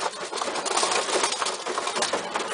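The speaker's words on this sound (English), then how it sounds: "This is my favorite pigeon." Racing homer pigeons cooing and murmuring continuously up close in a pigeon loft, with a dense, busy background of bird sounds throughout.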